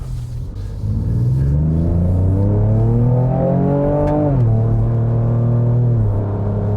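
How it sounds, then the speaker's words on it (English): Engine of a 2025 Ford Ranger Raptor ute in sport mode revving loudly and steadily, pitch climbing, then dropping sharply as the automatic transmission shifts near the four-second mark before climbing again, heard close and without talk. "In sport mode, you can hear the transmission changing up and down to give you the best possible performance."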